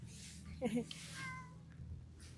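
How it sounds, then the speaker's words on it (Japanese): A single short cat meow sounds nearby, soft and high, over a quiet background hum, outdoors on Kuroshima island on a rainy day. "え、かわいいね。 猫ちゃん。"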